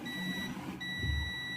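Steady electronic continuity beep from a multimeter probing a Samsung SM-B110E phone motherboard with a short circuit, a high sustained tone that briefly drops out midway and then resumes, over faint background hum.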